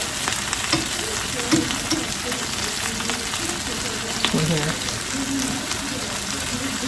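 Meat sizzles loudly and constantly in a hot pan while being stirred and moved around, a steady frying hiss close by with faint scraping, and a voice speaking softly underneath.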